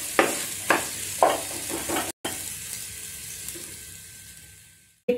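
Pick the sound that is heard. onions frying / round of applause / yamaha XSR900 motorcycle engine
onions frying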